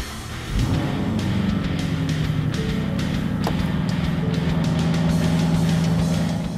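A 2015 Ford Mustang GT with the 5.0L V8 cranks and fires up, then settles into a steady, rumbling idle that continues close by with light mechanical clicks over it.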